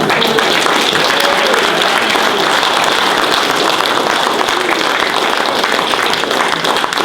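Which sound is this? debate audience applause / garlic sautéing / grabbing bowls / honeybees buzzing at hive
debate audience applause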